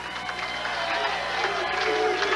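A bowling tournament crowd cheers and murmurs in a steady, loud wash, with a commentator's voice talking over it.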